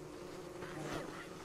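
Steady insect drone of a bee buzzing around in the survival video game Don't Starve Shipwrecked, close and continuous, swelling slightly midway over a faint low background hum.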